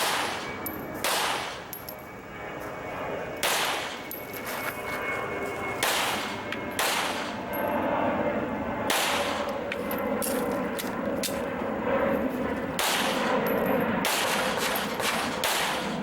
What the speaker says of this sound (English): Each bad guy gets 2 rounds to the body and 1 to the head before moving to the next target.